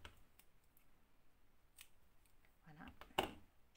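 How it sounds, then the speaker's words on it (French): Scissors snip crochet yarn once, a crisp close cut near the end, after a few seconds of quiet rustling as the yarn is folded and handled for a pompom maker. "je viens couper mon fil."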